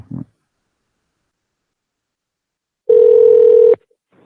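A telephone line tone sounds once, a single steady electronic beep lasting under a second after a short burst of noise, with silence between.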